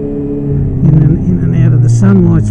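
A motorcycle in first gear rides right up against a rock face on a mountain pass, its engine a loud, close, low droning hum that shifts in pitch as it revs, with a voice talking over it.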